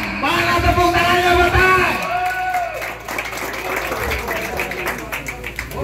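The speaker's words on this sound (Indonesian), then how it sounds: "Mana tepuk tangannya" A crowd claps and cheers for a third-place winner at a female goat contest in Batang, a loud, dense burst of applause heard beneath an announcer's voice over a loudspeaker.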